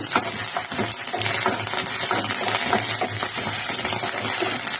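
Whole curry leaf sprigs hit a hot pan with green chillies already in it, producing a dense, crackling sizzle with stirring clatter, close and fairly loud throughout.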